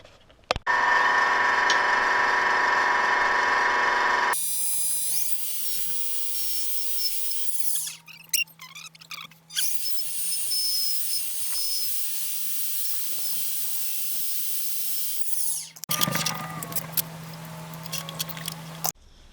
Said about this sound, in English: I had to turn the back end of one of them down